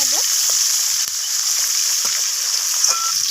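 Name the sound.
rohu fish pieces frying in oil, turned with spatula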